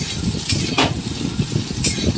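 Chopped onions and whole garam masala frying in hot oil for a keema curry, a moderate crackling sizzle broken by a few brief sharp spatters and the scrape of stirring.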